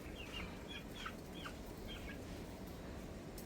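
Gilmore Hatch and Raptor Sweater gamefowl in a simple breeding pen, giving several faint, short clucks spread over a few seconds against steady low background noise.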